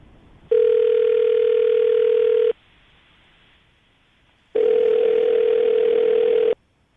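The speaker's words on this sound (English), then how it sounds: "We're going to call him right now, see if we can get him on the phone" A telephone call rings out over a radio show line: two long, steady ringback tones of about two seconds each, separated by a two-second pause, clear and fairly loud with no talking.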